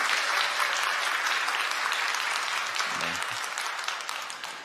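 Welcoming applause from a church congregation during a Sunday service, steady and dense across the whole stretch, fading slightly toward the end, with a faint voice briefly underneath.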